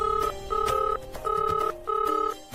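A telephone ringback tone plays over speakerphone, in repeated two-tone electronic bursts with short gaps between them, fairly quiet and with no voices.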